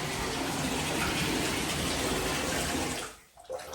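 A bathtub fills with water gushing steadily and loudly from the tap, close by, then the flow cuts off near the end, leaving brief quiet handling sounds.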